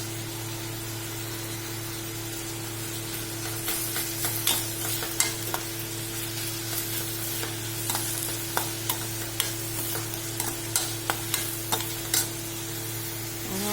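Thinly sliced onions sautéing in a pan for samosa filling, a faint steady sizzle over a low background hum, with a series of light stirring scrapes and taps in the second half.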